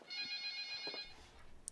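A home telephone rings in a quiet room of a large house, a repeated electronic ringing tone for about a second before stopping, followed by faint shuffling and a brief bump.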